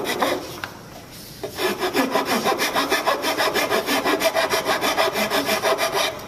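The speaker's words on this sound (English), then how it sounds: "You can use baby rasp or the smooth file to do this step. First thing you do is round that over so there's not a point." A smooth file rounding over the edge of a wooden casserole holder, steady rhythmic back-and-forth rasping strokes, close and clear with no talk.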